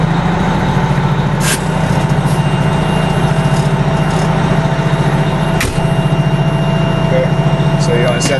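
A vehicle engine runs steadily with its pump engaged in gear, producing a constant loud low rumble and hum, broken by a couple of sharp clicks.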